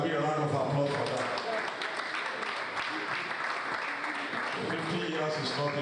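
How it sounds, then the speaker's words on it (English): A convention audience at a school old boys' association gathering breaks into applause, a clatter of many hands heard alongside voices and crowd murmur throughout. "I thought there would be a round of applause for that."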